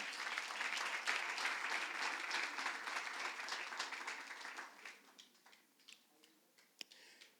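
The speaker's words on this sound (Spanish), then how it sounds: "Dale un aplauso a Dios para que no se me duerma." A church congregation applauding during a sermon, a dense, roomy wash of clapping from many hands that thins out and fades into scattered claps over several seconds.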